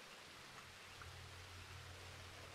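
Steady soft rain in the Red Dead Redemption II game world, a faint, even hiss throughout with no voices.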